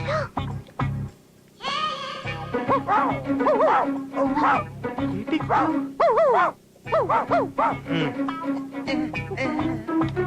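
A man imitates a dog barking in a Telugu comedy film scene, with a rapid series of loud, throaty yelps and woofs repeated close up, interspersed with short vocal sounds.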